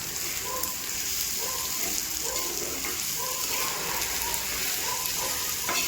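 Green chillies sautéing in a pan, a steady broadband sizzle with faint stirring scrapes, continuous and close, no voices.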